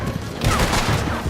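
Gunfire in the Western game Red Dead Redemption 2, a dense rattling fusillade of overlapping shots that runs loud and continuous through a brief chaotic moment, with voices mixed in.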